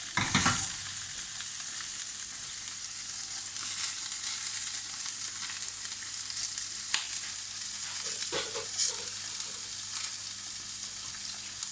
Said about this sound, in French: mon poisson, je vais le laisser cuire que d'un seul côté